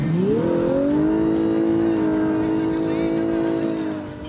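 A Lexus with a 3.5-litre V6 hybrid engine revs up quickly, then holds a steady, droning pitch as it drives past close by, with a narrator speaking over it.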